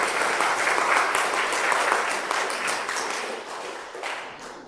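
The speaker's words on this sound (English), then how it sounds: "So let's give them one more round of applause." A church congregation at a Sunday service applauds warmly. The dense clapping holds steady, then thins out toward the end.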